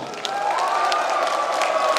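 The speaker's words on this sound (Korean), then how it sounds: "함성과 박수 한번 세게 한번 쳐주십시오" Crowd at a Korean public assembly event cheering and clapping on cue, a continuous roar of shouts and whoops over applause, steady and full from start to finish.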